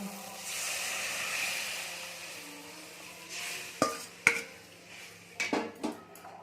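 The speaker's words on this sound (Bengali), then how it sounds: "এবার আমরা এখানে সর্ষে শাকটা দিয়ে দেব" Mustard greens going into a pan of fried prawns: a soft sizzling hiss gives way to several sharp metallic clanks and scrapes of a utensil against the pan, close and fairly loud.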